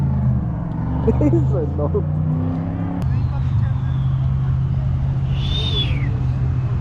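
A turbocharged diesel engine rumbles low and steady beneath people talking, then a thin turbo whistle rises and falls briefly near the end.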